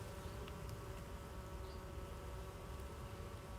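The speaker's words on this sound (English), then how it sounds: "I'm being really gentle because I don't want to disturb the bees." Honeybees in an open hive give off a continuous, faint, low buzzing drone, steady and unbroken throughout, with no voices over it.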